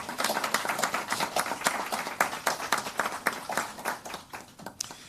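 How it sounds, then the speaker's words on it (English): Applause from a room of colleagues at a UNICEF launch event in Jamaica, dense and steady with many sharp claps crackling together for about five seconds, fairly close and without speech over it. "a round of applause for this support from Canada."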